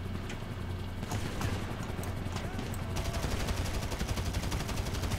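Dense, rapid gunfire from enemy shooters in GTA Online, volleys of automatic shots crackling continuously and growing denser and louder toward the end, with no talk over it.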